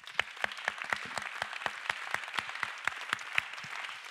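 Sparse, fairly faint applause from a small audience at a cultural panel discussion, with distinct individual claps in an irregular rhythm and no voices over it.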